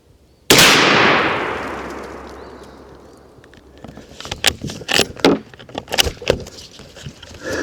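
One sharp, loud shot from a small rifle rings out and decays into a long outdoor echo, followed by a run of lighter clicks and clacks nearby.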